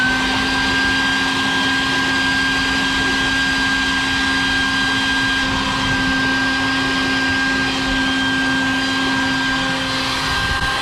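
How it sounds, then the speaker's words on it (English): A vacuum cleaner sucks up sanding dust indoors with a steady, continuous whine and hum that holds unchanged throughout, loud and close, with no voices. "vacuum away."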